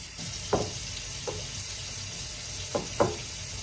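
Pancake batter is whisked in a bowl, a handful of wet scraping strokes and soft knocks spaced irregularly over a steady background hiss, with no talking.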